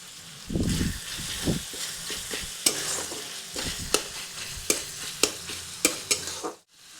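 Chopped tomato and onion sizzling in a pan while being stirred for a garlic Maggi noodle dish, a soft steady frying hiss punctuated by rhythmic clicks and scrapes of the spoon, ending abruptly.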